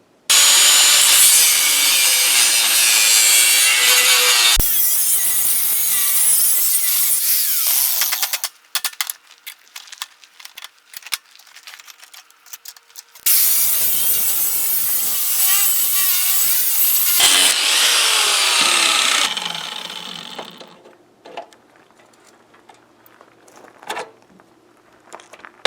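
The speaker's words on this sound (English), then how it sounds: "I'm just going to cut this shoe off here best I can" A power tool cuts through the worn metal shoe on a plow skid, two long loud continuous grinding-sawing passes separated by quieter scraping and handling noises.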